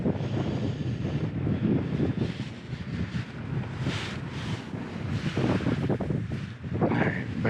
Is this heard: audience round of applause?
no